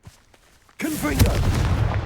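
A Confringo fire spell blasts in Hogwarts Legacy: after a quiet start, a sudden loud burst hits and sustains as a roaring, crackling blast with a whooshing tone over rumbling low end until the end.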